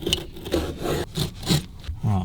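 Back-and-forth rasping strokes of a hand saw cutting out a piece for front mounts on a 1978 Rolls Royce Corniche convertible, rhythmic and close, with faint voices in the background.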